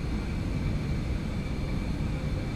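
Inside the cabin of an Eclipse jet in flight, engine and airflow noise form a loud, steady, unbroken drone with no talk.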